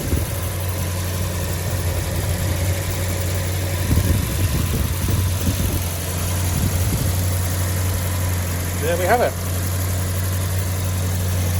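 A Peugeot 205 GTi 1.9 petrol engine idles steadily nearby with a low, even drone, while someone talks briefly over it.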